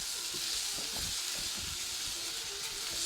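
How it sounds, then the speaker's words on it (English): Aromatics for a shrimp and crab vindaloo being stirred in a hot pan, a loud continuous hiss of frying with soft scraping strokes of the spoon underneath, no talking. "I'm going to stir in the rest of my aromatics"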